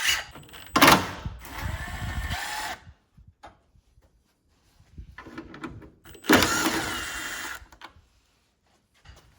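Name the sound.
tool removing 10mm bolts on 2015 Ford Mustang headlight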